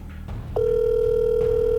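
A telephone ringback tone sounds while calling someone: a steady, loud electronic tone holds on without a break after a short stretch of background noise.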